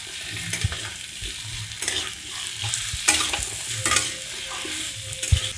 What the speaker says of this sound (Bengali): বেগুন দিয়ে দেব, মূলো দিয়ে দেব। এবার হালকা একটু ভেজে নেব।